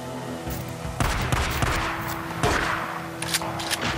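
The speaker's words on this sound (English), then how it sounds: "No, stop shooting at me." Gunfire in the game Days Gone, several loud close bursts of shots and thumps scattered across a few seconds amid game noise, with no talk.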